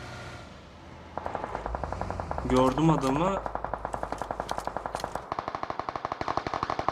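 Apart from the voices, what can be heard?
gunfire in a video game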